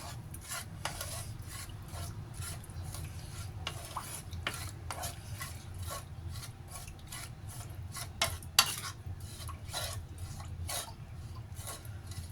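Lime juice stirred into a seafood dipping sauce, a spoon scraping and clinking repeatedly against the bowl in quiet, irregular close strokes with faint background hiss.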